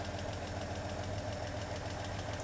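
A Toyota 2F car engine idling close by at operating temperature, a continuous low rumble with a faint rhythmic knock and no other sounds over it.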